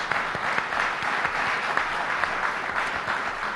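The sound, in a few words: audience applause for panelist Dolly Brumfield-White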